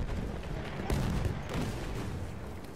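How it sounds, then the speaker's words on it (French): Gunfire in the video game Battlefield 1, with dense, continuous bursts of shots and rumbling blasts packed together in a loud multiplayer firefight, no clear pauses between volleys. "Ça tire dans tous les sens même."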